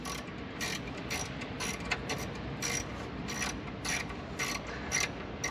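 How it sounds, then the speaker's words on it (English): A socket wrench ratchets as it snugs wires onto a DC essential relay in an F-4 Phantom jet. Quick bursts of close, crisp clicking repeat in a steady rhythm, with no voices. "Glad this socket wrench got a nice little thumb wheel."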